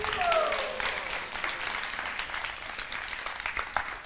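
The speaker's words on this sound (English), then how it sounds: "So let's give a big round of applause." An audience applauds, with many hands clapping in a steady, moderately loud patter that carries on throughout.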